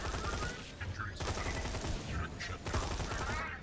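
Rapid automatic gunfire from the Scorpio weapon in the shooter game Borderlands 2, a dense continuous burst of shots with someone talking over it.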